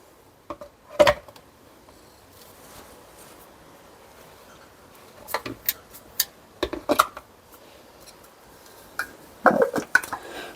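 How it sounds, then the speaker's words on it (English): Lids being set onto two milk frothers, a few sharp plastic clicks and knocks spaced out among quiet handling noise, close and alone. "Putting the lids on."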